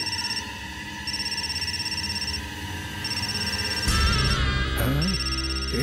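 A telephone rings in repeated electronic bursts over a loud musical score, with a dramatic swell of sound near the end.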